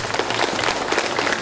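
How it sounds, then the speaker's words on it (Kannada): An audience at a Kannada literary celebration gives steady, dense applause, many hands clapping together throughout without a pause. "ಅದಕ್ಕೋಸ್ಕರ ಎಡ್ಡೆ ಆದಿತ್ತನ ನಾಂಡ ಚಪ್ಪಾಳೆ ಬಟ್ಲೆ"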